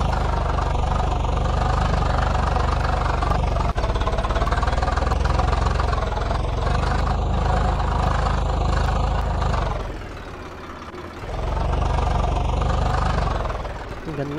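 Steady, loud engine drone of a 744 tractor in Farming Simulator 22, a continuous mid-low hum that dips briefly near the end before returning at full strength.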